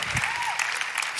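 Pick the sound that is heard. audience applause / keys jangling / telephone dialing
audience applause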